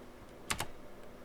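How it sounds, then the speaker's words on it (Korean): The Enter key on a computer keyboard is pressed once, giving two quick, crisp clicks close together, a press and its release, heard alone against a quiet room hush. "키보드 엔터"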